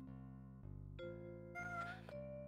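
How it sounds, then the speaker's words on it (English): A cat meows over sustained music and game sounds, its tonal cry rising briefly in the middle and ending in a short, pitched call. "Crispy's the best cat"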